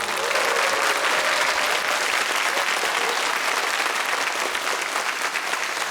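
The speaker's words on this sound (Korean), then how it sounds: "큰 박수 부탁드리겠습니다." Dense, steady applause from a large audience fills the whole stretch, loud and continuous without a break.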